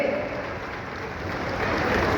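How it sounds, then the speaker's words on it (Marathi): A crowd applauds at the Amravati Airport inauguration. The clapping is a loud, dense wash of many hands that grows stronger near the end, with voices mixed in. "जोरदार एकदा टाळ्या होऊन जाऊ दे"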